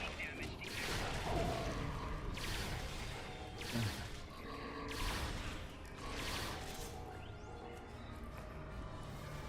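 A weapon in the space game Star Trek Online fires bolts, making a series of faint, washy bursts at regular intervals over a low background drone, with no talking.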